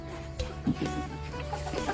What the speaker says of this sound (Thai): นี่ค่ะพี่น้องนี่เป็นคอนโดไก่ของผู้จัดการด้วยค่ะเด้อ